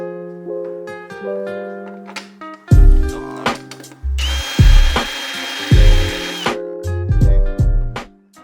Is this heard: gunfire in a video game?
no